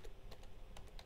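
Soft, quick keystrokes on a computer keyboard, a handful of faint clicks in an uneven rhythm over low background hum.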